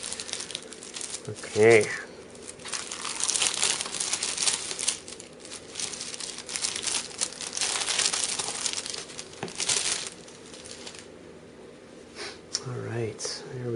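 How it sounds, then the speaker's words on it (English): Crinkly plastic wrapping being torn and peeled off a Nintendo Power magazine package, the December 2012 final issue with poster; continuous close crackling and rustling throughout, with a brief spoken word near the start. "Let's unwrap it and take it from there."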